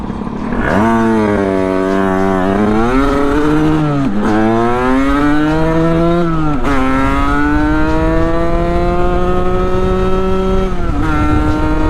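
A Sherco 50 supermoto fitted with a big bore AM6 engine revs hard and close, its high two-stroke whine climbing and dipping through several gear changes before holding steady near the top of its range, loud and continuous.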